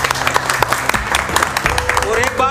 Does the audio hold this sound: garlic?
no